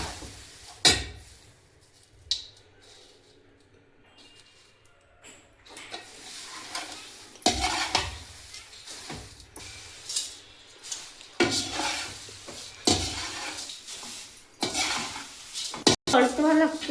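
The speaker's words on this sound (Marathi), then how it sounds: "पलटवा लागते पोहे, नाही तर मग खालतं जळून जाते. पलटवत राहावं लागते" Poha (flattened rice) is stirred and flipped in a pan for chiwda namkeen, with repeated scraping and clinking of a metal utensil against the pan at irregular intervals over a soft sizzle, with occasional speech mixed in.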